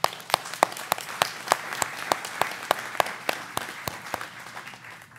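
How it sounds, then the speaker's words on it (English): Audience applause during a volunteer meeting for the Sun 'n Fun fly-in, with a steady wash of clapping and sharp individual claps standing out in a loose rhythm, moderately loud and continuous for about five seconds, with no talk. "I'd like to give you a big round of applause"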